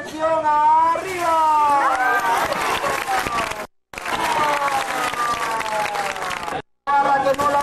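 Applause and crowd noise at a beach show in El Rodadero, Colombia, rise and fall continuously, mixed with music and voices, with two brief silent gaps.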